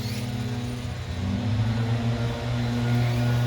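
Arrma Kraton 6s RC car motor running, a continuous whining drone with steady hum tones that rises in pitch partway through, moderately loud and heard with no talk.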